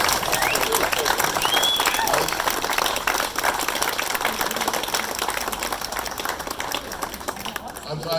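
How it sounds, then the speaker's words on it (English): Audience at a Walk of Fame induction ceremony applauding an honoree, sustained crowd clapping at steady volume throughout, with faint voices and cheers mixed in before it thins toward the end. "Let us give a round of applause for Alex McGregor."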